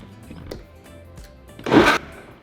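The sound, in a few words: blender blending salsa with garlic and spices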